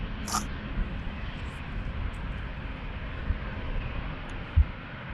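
An Embraer jet departing runway 36L at Amsterdam Schiphol, heard as a steady low engine roar and rumble at some distance, continuous and even for the whole stretch, no talk over it.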